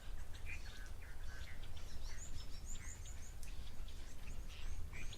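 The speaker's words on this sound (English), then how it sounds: "the chinspot batis likes this croaky part of its call" Outdoor birdsong at a waterhole in the greater Kruger, with a chinspot batis giving rough, croaky calls among scattered chirps and tweets, fairly faint over a low background rumble.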